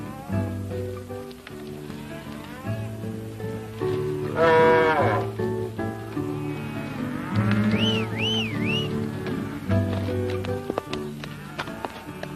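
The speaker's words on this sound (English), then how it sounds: "Keep the cattle moving." Cattle lowing repeatedly during a cattle drive in a 1953 Western, several long moos rising and falling over a steady herd backdrop with faint hoofbeats and horse sounds, fairly close and without talk.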